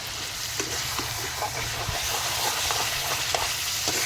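Chicken pieces sizzle and fry in a pan for biryani, giving a steady, dense crackling hiss with occasional small pops and stirring scrapes, close and continuous with no talking.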